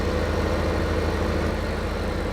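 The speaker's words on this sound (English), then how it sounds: "Slowing this tractor down here." A tractor engine in a farming video game, hauling a tank full of milk, drones at a steady low idle as it slows down, loud and continuous with no talk.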